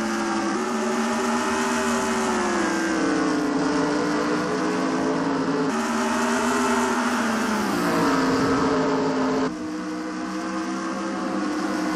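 Race car engines roaring together at a green flag start in a NASCAR video game, a loud, sustained droning whine with pitch shifts as the cars accelerate, filling the whole stretch with no talking.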